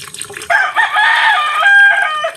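A farmyard chicken on a rural homestead lets out a loud, close, drawn-out crowing call after a few short clucks, the tonal cry holding for nearly two seconds.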